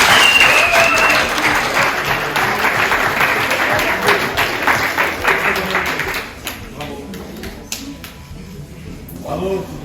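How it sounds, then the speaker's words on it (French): An audience at a French high school short-story contest applauds the first-prize winner, clapping loudly and densely at first with voices mixed in, then thinning out and tapering off toward the end. "on peut applaudir le premier"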